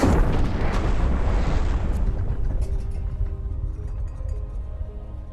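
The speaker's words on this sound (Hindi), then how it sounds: "खैर करीब 12:52 पर एक धमाका होता है।" A heavy explosion from a UFO crashing into a backyard garden in a film booms loudly, then rolls into a long, fading rumble with no voices.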